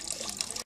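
Tap water runs steadily from a faucet in a kitchen in Uganda while matoke is being cooked, a close, continuous hiss and splash that cuts off briefly near the end.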